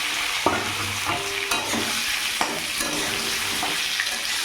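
Boiled potatoes frying in oil with bay leaves and browned cumin seeds, a steady close sizzle broken by several scraping stirs of a spoon against the pan.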